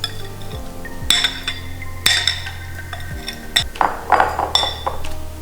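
Seasoning mixed by hand into napa cabbage for fresh kimchi salad (geotejori), with repeated clinks and clatters of a glass or metal bowl and utensils, close and moderately loud, no talking.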